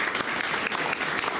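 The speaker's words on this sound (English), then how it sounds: "Everybody, round of applause for" A meeting audience applauds for Valerie Cooper, a dense even wash of many hands clapping at once, steady and moderately loud for a short stretch.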